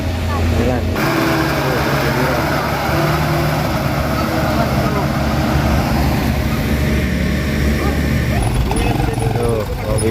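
A motor grader works on a road repair alongside an excavator, its loud diesel engine rumbling steadily and close up throughout, while someone talks over the machinery.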